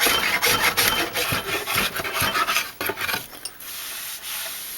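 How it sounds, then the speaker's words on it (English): Draw knife smoothing the sides of a hand-carved walnut wooden tray, close rasping scrapes in quick repeated strokes, fading near the end. "I'm going to smooth out the sides with the draw knife."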